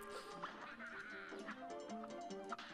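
Rapid, repeated duck quacks from the video game Cuphead, several quacking calls stacked over cartoonish background music, faint and busy throughout.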